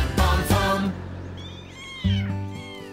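Cartoon kittens on Big Barn Farm give loud, close meows, two high mewing calls in quick succession followed by a pause, then another drawn-out cry over soft background music.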